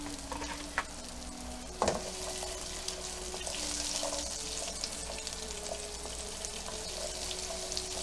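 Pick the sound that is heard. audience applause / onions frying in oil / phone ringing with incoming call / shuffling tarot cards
onions frying in oil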